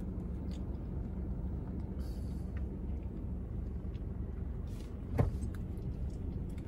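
A car drives through downtown Sacramento in December: a low, steady road rumble heard from inside the cabin, quiet throughout, with one brief faint knock near the end.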